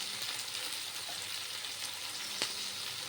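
Chillies fry in hot oil in a pan with a quiet, even sizzling hiss throughout and a single faint tap partway through, heard alone with no voices.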